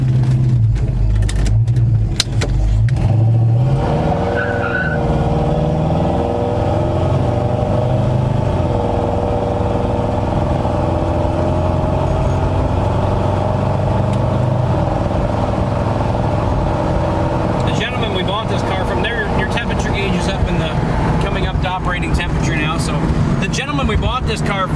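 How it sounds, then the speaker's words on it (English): A 1968 Dodge Charger engine runs close by, starting up and settling into a steady, rumbling idle with occasional revs, with people talking over it. "Started right back up, no problem."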